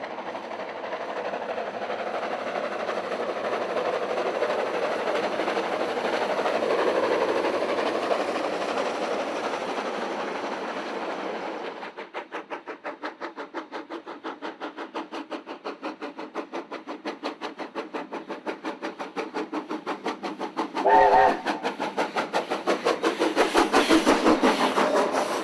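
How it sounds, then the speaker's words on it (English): A chartered train running in New Zealand's winter countryside, a steady rumble for the first half giving way to a rhythmic clickety-clack of wheels over rail joints, moderately loud and without voices. "The train had been chartered to Lodge Tawhiri to celebrate their centennial in Hamilton."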